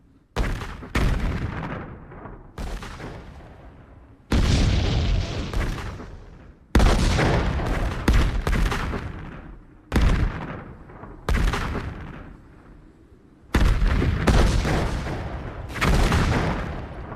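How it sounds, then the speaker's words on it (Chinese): Heavy artillery shells burst one after another in a Korean War battle scene, about a dozen loud booming impacts each followed by a rolling decay, near and powerful with no voices. "这一轮的轰炸炮弹量明显减少"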